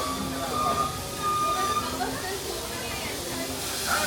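Aboard the Walt Disney World Railroad steam train at Magic Kingdom, a steady rolling rumble and hiss carry throughout, with faint, indistinct voices of passengers in the background.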